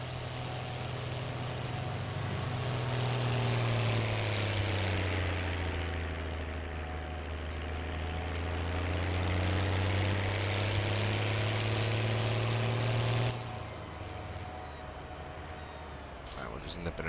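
A tractor engine in a farming video game runs with a steady low drone that rises and falls slightly in pitch. It cuts off near the end.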